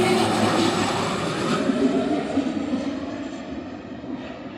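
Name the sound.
small plane flying at Vancouver airport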